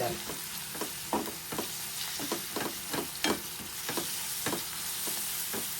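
Ginger garlic paste fries in a pan with a steady sizzle while a spoon stirs it in irregular scraping strokes, close and alone.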